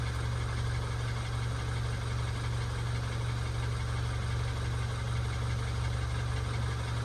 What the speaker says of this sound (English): So I'm gonna let it idle